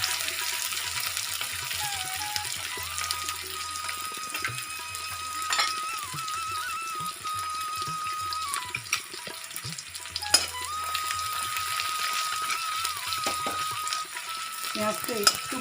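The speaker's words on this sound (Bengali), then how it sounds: "এবার আমি কুচনো পেঁয়াজটা দিয়ে দিলাম।" Chopped onion fries in a pan for a jackfruit and potato curry, a steady close sizzle that runs throughout with occasional clinks and scrapes of a utensil, and no speech.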